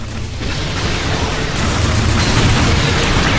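A weapon fires again in Earth Defense Force 4.1, setting off a loud, dense explosion. The blast spreads into a sustained roaring wash of rumble and debris that stays heavy and close for the whole stretch.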